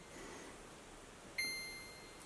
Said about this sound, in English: Now we'll set this to air fry